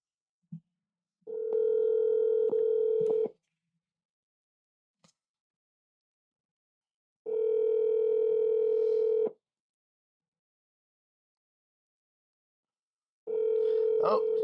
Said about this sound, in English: Oh, Amber ain't answering her phone